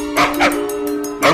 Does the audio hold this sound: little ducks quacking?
no